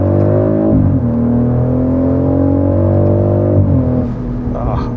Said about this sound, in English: Oh man, that engine note sounds so good.